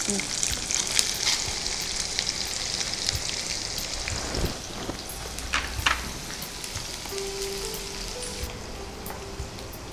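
Chopped onions and garlic sizzle in a pan for a jackfruit seed stir fry: a continuous crackling hiss with scattered scraping and stirring clatters, close and fairly loud.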